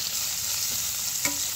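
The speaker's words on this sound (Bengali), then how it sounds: "কিছু পেঁয়াজ কুচি দিয়ে দেবো।" Chopped onion dropped into hot soybean oil in a kadai, giving a steady bright sizzle with a soft stir and a small clatter near the end, close and continuous with no voices.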